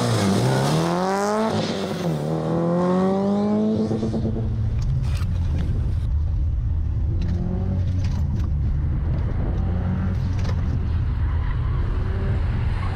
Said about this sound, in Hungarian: Volt egy lukváltása, úgy hallottam.